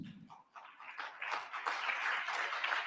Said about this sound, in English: Let's keep clapping for them.